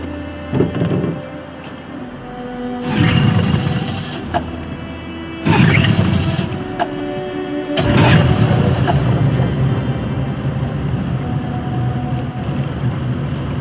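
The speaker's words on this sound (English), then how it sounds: "Let's get that engine going." In Detroit: Become Human, a boat engine cranks in repeated bursts before catching into a steady low rumble. The tries are close and loud, with a hollow mechanical character.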